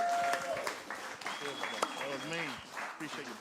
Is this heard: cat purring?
no